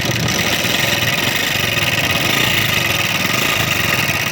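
An old engine with its tappet cover removed idles steadily, a close, loud, even mechanical rumble and rattle running throughout with no voices.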